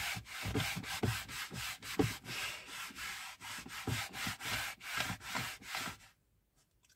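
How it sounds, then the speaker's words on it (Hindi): A small foam pad rubs polish into a car's interior trim in quick, regular back-and-forth strokes, about twenty soft scrubbing passes that stop abruptly near the end, quiet and close. "फिर उसके बाद ये जो छोटा सा फोम मिल जाता है, तो इसी से रगड़ते"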